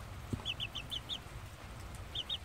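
A hen clucks softly in a quick run of short notes, fairly faint against a quiet background, with a brief pause before a few more clucks.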